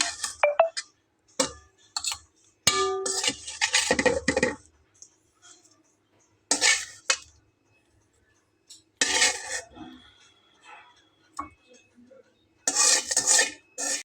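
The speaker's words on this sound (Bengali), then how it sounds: "তো এখন আমি এগুলোকে একটা পাত্রে তুলে নেব" Fried tomatoes being lifted from a pan into a pot, with scattered metal clinks, scrapes of a utensil and clattering cookware in short close bursts separated by quiet gaps.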